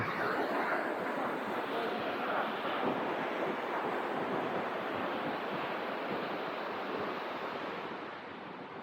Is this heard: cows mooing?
no